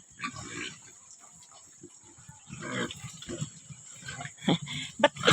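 Pigs on a farm grunting and snorting in short bursts, with scuffling and shuffling movement between calls, fairly close and growing louder toward the end, under a steady high background whine.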